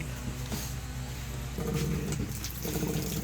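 A tap runs in the washing area of a beach campsite, a steady splashing gush with louder surges as the flow changes.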